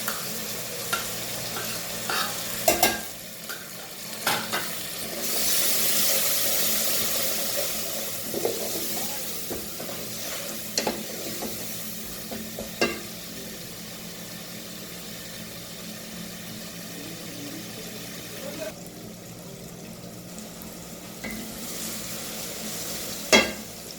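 Masala frying with tomatoes and black pepper gives a long, steady sizzle in a pan, broken up by scattered stirring knocks and scrapes. The hiss swells for a stretch partway through, and there is no talking.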